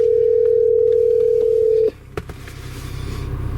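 A steady phone dial tone plays through the in-car system of a 2019 MINI Cooper S with John Cooper Works tuning, holding evenly for about two seconds before cutting off abruptly, leaving faint cabin hum and a couple of soft clicks.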